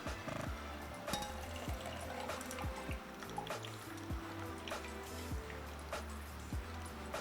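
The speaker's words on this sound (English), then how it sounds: "here's our blue butterfly pea water, and we're going to pour it here into this French press coffee" Blue butterfly pea water poured into a glass French press, a soft continuous splashing trickle with small drips, close and quiet with no voices.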